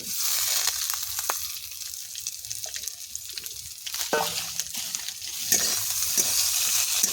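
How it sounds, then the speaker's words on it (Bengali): Green chillies and fried vegetables being stirred in a hot frying pan, with a bright ongoing sizzle broken by scraping and clattering stirring strokes at irregular intervals and no talking. "নেড়ে চেড়ে এবার ভেজে রাখা সবজিগুলো দিয়ে দিচ্ছি।"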